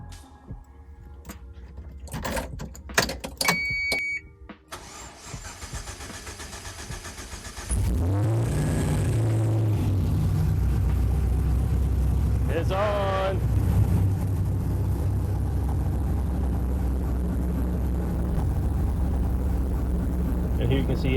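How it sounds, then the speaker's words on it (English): A car engine fires up and settles into a steady, loud idle with a low rumble just after a new HP Tuners ECU install, preceded by clicks and fuel pump priming. "here you can see as the engine is idling"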